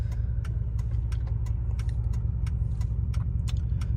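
A straight-piped Pontiac Bonneville GXP rumbles with a steady, loud, deep exhaust drone, heard from inside the car with the windows up, joined by faint intermittent clicks and rattles.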